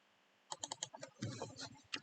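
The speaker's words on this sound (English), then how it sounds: "I'll just type it in." Keys on a computer keyboard are typed close up, a quick burst of separate clicks followed by a few more scattered taps as a number is entered, with faint voice traces between them.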